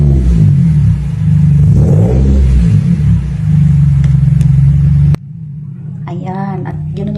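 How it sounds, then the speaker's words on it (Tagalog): A car engine rumbles loudly and steadily close by, its pitch swelling briefly as it revs, then drops off abruptly; a voice speaks faintly near the end. "Ayan, at ganoon nga po ang tunog ng sasakyan ni Kalo."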